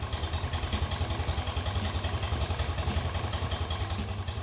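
An old BMW R65LS motorcycle with carburetors idles at a low speed, its engine pulsing in a fast, even, lumpy rhythm close by and steady throughout.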